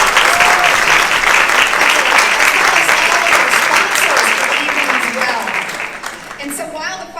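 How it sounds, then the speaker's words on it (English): Loud, sustained applause for the judges from an audience at a seniors talent show, a thick wash of clapping that holds steady then gradually tapers, with voices faintly beneath it near the end. "let's give our judges another round of applause as well"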